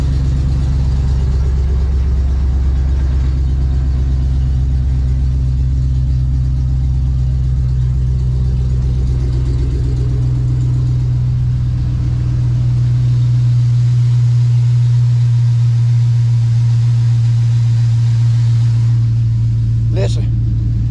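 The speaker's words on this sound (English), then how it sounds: "how many times is that guy gonna crank that darn truck up on a video?" An LS-swapped truck engine running loud and close, a heavy low rumble that idles and then holds a steadier higher drone as it revs, with a sharp brief click near the end.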